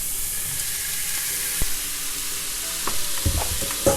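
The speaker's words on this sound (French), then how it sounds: "maintenant je vais ajouter la viande hachée. Hop, on ajoute tout d'un coup comme ça." Minced meat tipped into a hot pan sizzles and fries steadily for lasagne, a continuous close hiss broken by a few scraping stirs and light clatters.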